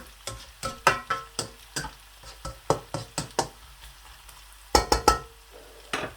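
Onions fry gently over low heat in a pan for potato bhujia, with a spoon scraping and stirring in a steady series of close, sharp strokes above a faint sizzle and no talking.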